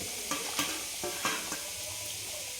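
Fried eggs dropped into a simmering Afghani egg curry gravy, with a few soft plops and clinks over a constant bubbling hiss, close and moderately loud, no voices.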